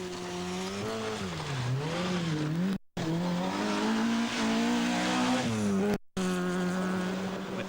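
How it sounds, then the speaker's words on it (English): Vauxhall Nova Group A rally car at the 1988 Cartel Rally, its small engine revving hard through gear changes as it drives past, loud and continuous with rising and falling pitch. "Colin McRae in the Vauxhall Nova was now 7th"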